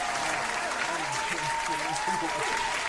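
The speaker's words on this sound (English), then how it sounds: "Hold on, let me give you a applause." An applause sound effect plays as a steady wash of crowd clapping, fairly loud and continuous, with a faint tone running underneath.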